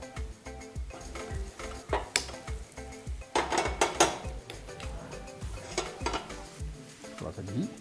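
Dry fruits toasting in ghee in a pan, with a spoon stirring and scraping in repeated clanks over a low sizzle, close and steady throughout.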